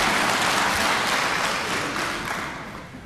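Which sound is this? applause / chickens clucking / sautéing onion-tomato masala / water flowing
applause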